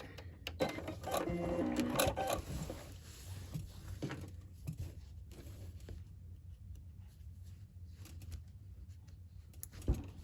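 A sewing machine stitches a quilt-as-you-go block with cat designs, running with a steady fast mechanical whir and rattle throughout, moderately close, with no talking.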